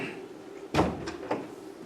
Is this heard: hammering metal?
no